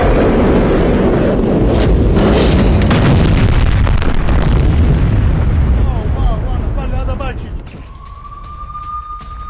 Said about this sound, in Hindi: रॉकेट अटैक के बाद तेल अवीव में बड़ा धमाका हुआ है।